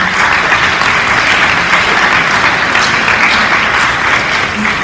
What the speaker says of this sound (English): Special round of applause for Mr. Ray.